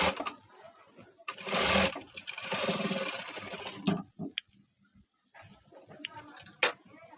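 A sewing machine runs in two bursts while stitching a blouse: a short loud whir, then a longer steady run, followed by quieter clicks and fabric handling nearby.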